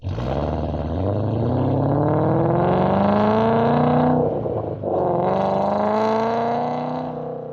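Ford Mustang GT fitted with long tube headers and a MagnaFlow exhaust revving loudly up and down, a rising roar with a brief dip before climbing again and then easing off, with no talk over it.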